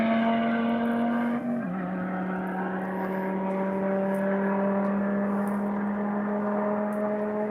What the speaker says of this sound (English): V10 is making some noise.